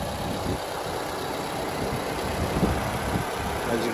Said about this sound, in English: As you can probably hear, I do have the car running as well.